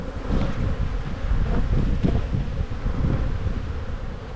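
Honey bees buzz in a dense, steady drone around an opened backyard hive, close and continuous with some wind rumble against the microphone and no speech.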